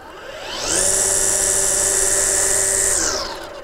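A Greenworks 40V cordless string trimmer with bike handles spins up instantly to a loud, steady electric whine, holds for about two seconds, then winds down.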